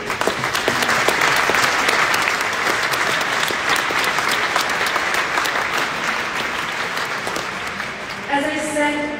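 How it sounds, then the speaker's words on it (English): An audience at the WorldSkills Competition 2022 closing ceremony in Bolzano, Italy, gives loud, sustained applause from a large crowd, with music notes entering at the very end. "So, an applause for them too!"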